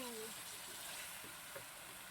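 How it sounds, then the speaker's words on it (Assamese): Meat coated in spice paste fries in a pan with a faint, steady sizzle and a few soft stirring scrapes, all quite low in level. "আৰু ভালদৰে অকণমান টাইম ভাজি ল'ম।"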